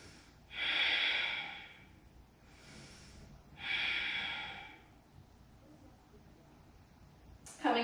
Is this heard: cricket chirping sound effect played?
no